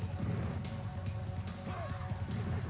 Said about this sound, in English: look at the rain effects, that's cool, right?